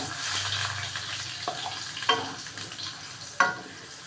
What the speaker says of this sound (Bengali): আলুটা একটু ভাজা হবে